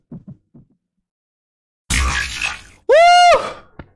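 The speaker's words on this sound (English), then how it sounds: "My heartbeat is loud and out of control." Heartbeat sound effect from the video game Your Turn to Die: a few soft, low thumps at the start, then after a silence a loud burst of noise and a rising tonal boing that fills the end.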